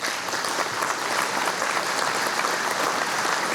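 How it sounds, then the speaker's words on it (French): Audience applause at an air base ceremony marking forty years of Mirage 2000 service, a dense, steady clapping from a large crowd that carries on evenly before cutting off. "Nous pouvons les applaudir également."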